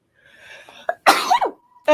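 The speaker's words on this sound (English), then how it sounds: "That surprised me so much I sneezed." One abrupt, close sneeze bursts out during a casual online discussion about the Star Wars film Return of the Jedi, followed by a brief vocal sound.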